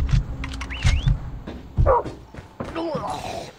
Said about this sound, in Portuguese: Olha os cachorros.